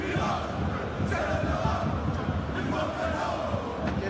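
A stadium crowd cheers and roars steadily in an eFootball Champions League match between Bayern Munchen and PSG, a continuous, fairly loud wash of voices with faint commentary beneath.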